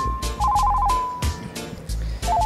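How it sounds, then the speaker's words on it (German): A telephone ringing indoors, a loud electronic warbling ring in repeated bursts, close and alone with no voices over it. "Ups, Telefon."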